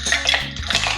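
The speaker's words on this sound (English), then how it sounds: "Add ice." Ice going into a cocktail shaker that already holds Kahlua and Amaretto, a dense clattering, splashing burst close by that lasts about a second with no talk.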